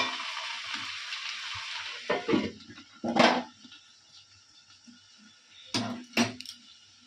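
Mutton being stir-fried with spices in a covered pot, a soft steady sizzle broken by a few louder bursts of stirring and scraping, close up and without talk.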